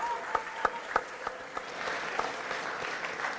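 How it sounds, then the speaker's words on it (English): An audience at a university entrepreneurship summit applauds as lecturers come up onto the stage to receive an award, with steady crowd clapping and a few sharp, louder claps standing out near the start. "Clap for them as they come."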